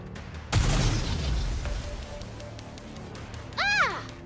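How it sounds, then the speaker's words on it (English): Homemade explosives blow up in the video game Nikke: a sharp, loud blast followed by a rumbling, crackling decay, then a second burst near the end layered with rising and falling synthetic whine tones. "They appear to be homemade. The explosions aren't stable. Here comes another one."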